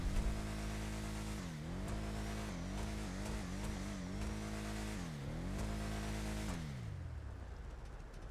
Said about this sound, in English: Sounds like a V8 for sure